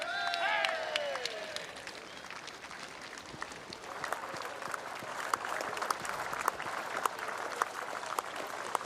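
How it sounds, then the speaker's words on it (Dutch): A large outdoor crowd at the Skûtsjesilen sailing championship in Sneek gives sustained applause for the champion, a steady dense patter of many hands with scattered sharper claps, heard at a moderate distance after a brief cheer at the start. "een heel groot applaus voor de kampioen van 2026, Douwe Visser en zijn manning"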